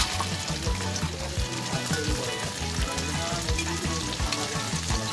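Mustard oil sizzles in a hot wok, a steady, dense frying hiss that stays loud and close from start to finish, with no voices.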